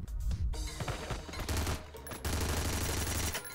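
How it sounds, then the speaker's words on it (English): Gunfire from a magazine dump in a frantic 2D shooter game, dense rapid automatic bursts that run almost unbroken with brief gaps, loud and close. "Just gonna mag dump into that general direction."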